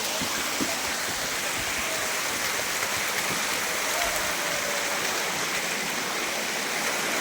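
A waterfall at Anjaneri roars in a constant rush of splashing water, loud and close, with no let-up and no voices.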